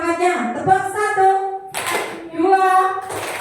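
A classroom group chants in unison, and bursts of many hands clapping together in rhythm break out between the sung phrases, loud and close.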